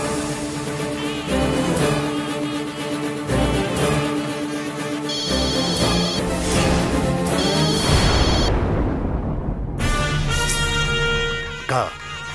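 A telephone rings again and again without being answered during a call, its bright electronic tone coming in repeated bursts over loud dramatic music and voices.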